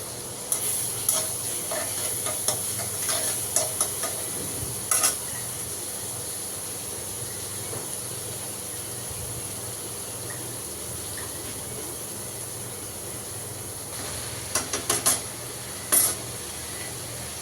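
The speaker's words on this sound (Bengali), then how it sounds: "এখন ভাজিটা বসাচ্ছি। তো ভাজির জন্য পেঁয়াজ আর কাঁচামরিচ দিয়ে দিলাম।" Onion and green chili frying for bhaji in a pan, a low, steady sizzle running throughout, with bursts of light spoon clinks and scrapes near the start and again toward the end.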